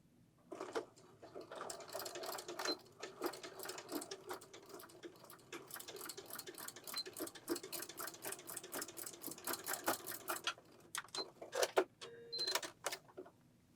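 A sewing machine stitches ribbon into a simple skirt in rapid, even needle bursts, running in several spells with short pauses between them. It is close but fairly quiet, and no one speaks.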